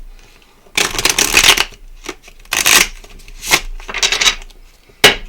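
A deck of tarot cards is shuffled by hand in loud, repeated riffling bursts, each a few seconds of rapid papery flicking, close up with brief pauses between and no one talking.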